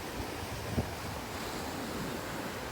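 Ocean surf rolls steadily onto a Punta Cana beach in the Dominican Republic, a continuous wash of waves with wind buffeting the microphone and no voices.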